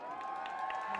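A crowd at a pro-democracy protest in Bangkok cheers and shouts in a brief, steady burst, voices blending into a sustained roar with rhythmic rising calls.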